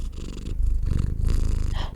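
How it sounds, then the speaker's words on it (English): A house cat purrs close up with a steady, rumbling low vibration that holds for about two seconds and swells louder midway, with no talking over it. "The purr."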